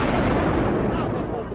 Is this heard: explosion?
yes